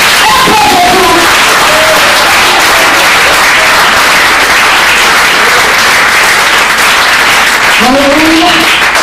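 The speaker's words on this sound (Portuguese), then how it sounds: "As palmas do Senhor. Mais forte!" A church congregation claps loudly and continuously at an evangelical service, a dense, roaring wall of applause held close throughout, with brief shouting voices rising over it near the start and end.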